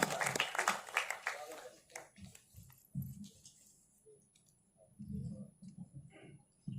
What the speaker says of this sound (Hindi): एक बार दोनों हाथ उठा के जोरदार तालियों से आमंत्रित करिएगा